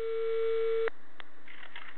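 A telephone call signal tone rings as a steady, loud electronic beep held for almost a second, then cuts off, followed by faint clicks and low line noise.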